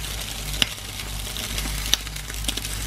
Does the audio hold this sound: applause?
no